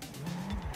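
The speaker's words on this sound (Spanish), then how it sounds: "Suena como una RR, pero desde luego no anda, ni gira, ni nada como una jodida RR." Motorcycle engine in the video game Sleeping Dogs, a steady low droning hum with a rising pitch line, heard briefly and fairly close with no talk over it.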